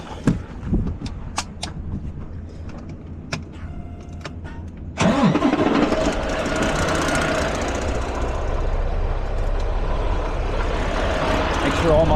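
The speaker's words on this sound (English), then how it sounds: "fire my truck back up." A semi truck hauling a loaded trailer cranks and fires up after several clicks and taps, then settles into a loud, steady diesel idle close by.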